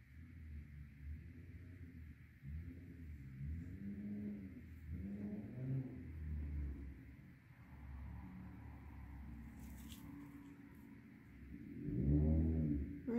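A loud motorcycle passes nearby, its engine rising and falling in several throaty swells before a stronger surge near the end, with no talking.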